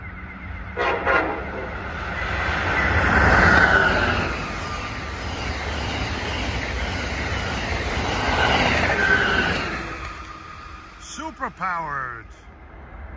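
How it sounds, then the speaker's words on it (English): Amtrak 129 passenger train on the New York to Washington run approaches through Hamilton, New Jersey, a loud steady rumble building and swelling for several seconds, with a brief horn blast near the end. "approaching at 5:32 is Amtrak 129, New York, Washington."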